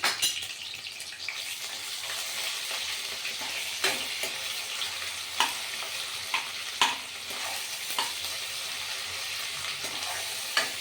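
Ginger and garlic fry in a pan, with a steady close sizzle broken by occasional light scrapes and knocks of a utensil stirring, without talk.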